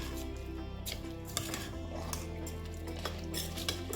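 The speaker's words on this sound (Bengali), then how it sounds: "সুন্দর করে চালটা মাখিয়ে নেব।" Rice is stirred into chicken pulao in a pot, with a metal spoon scraping and clinking against the pot in irregular strokes over a low background hum, close and fairly soft.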